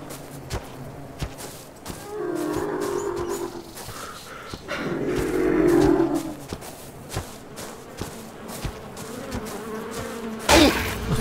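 Bees swarm and attack in ARK Survival Evolved, a close, loud buzzing drone that swells and fades in waves across the scene, punctuated by sharp clicks and footsteps.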